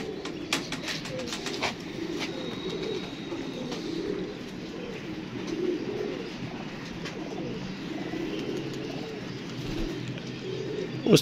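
Pigeons coo with low, rolling calls that repeat throughout, close and fairly loud, over a soft bed of outdoor background noise.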